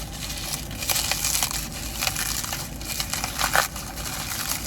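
Cardboard box of CDs being opened, with crinkly crushing and tearing rustles and a few sharper crackles, close and moderately loud with no talking.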